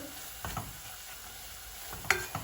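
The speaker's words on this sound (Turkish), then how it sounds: "Onu da güzelce kavuracağım. Mantarımla beraber." Mushrooms and a spoonful of flour being sautéed together in a pan, with a soft continuous sizzle and a few scraping stirs of the spoon, close and fairly quiet.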